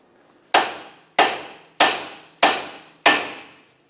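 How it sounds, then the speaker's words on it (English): Five sharp metallic hammer blows strike a steering knuckle to free the tie rod stud on a 2014-2021 Mazda 6, evenly spaced about two-thirds of a second apart, each ringing briefly and close by. "Tap the knuckle on the side with a hammer, and that should separate the tie rod stud from the knuckle."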